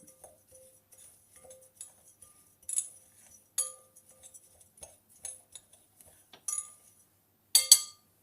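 A spoon clinks against a bowl in scattered, irregular taps while granola galette ingredients (oats, seeds and the like) are stirred together, close and fairly quiet, with short bright knocks and a louder cluster near the end.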